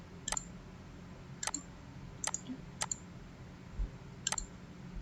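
Mouse clicks while building a running-LED Arduino circuit in simulator software: five sharp, quiet, isolated clicks, a few paired close together, over a low background hiss.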